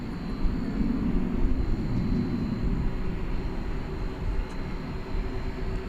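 An ABX Air Boeing 767-300ER, built in 1994, at DFW Airport at night gives a steady, heavy jet-engine roar that holds constant throughout with no break.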